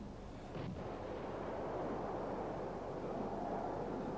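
An AMRAAM missile strikes and destroys a QF-102 target drone: an explosive blast is followed by a loud, steady, rumbling roar that holds for several seconds, with no voices.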